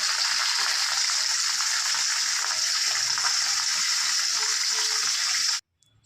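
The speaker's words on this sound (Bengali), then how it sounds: "এই যে মাছে হলুদ লবণ দেওয়া হয়ে গেছে। এবার মাছটা ভেজে নিচ্ছি।" Fish seasoned with turmeric and salt fries in hot oil with a loud, dense, steady sizzle that stays constant and then cuts off abruptly just before the end.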